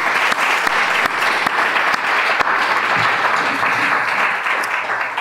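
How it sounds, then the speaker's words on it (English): Sustained audience applause at a student poetry reading, a thick, continuous patter of many hands with a few sharper claps standing out, filling the room without speech. "keep applauding for Giovanni"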